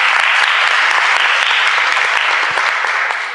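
Sustained audience applause at a school event, dense and steady clapping from a large crowd, loud and close, fading slightly toward the end.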